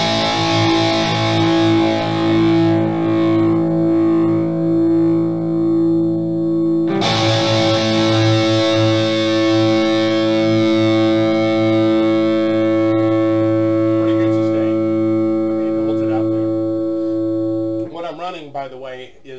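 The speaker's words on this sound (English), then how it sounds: "I call that moderate distortion" Electric guitar fitted with Firefly flametop LP pickups, played through a Supersonic 22 amp with Celestion Vintage 30 speakers at moderate distortion: loud sustained chords ringing out, a fresh strum midway, then a final pitch-bending squeal.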